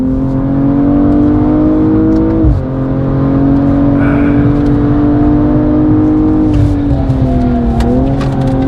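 A BMW M240i's engine drones loud and close on a racetrack, holding a steady tone with brief dips as the driver short-shifts through a corner; no talk over it.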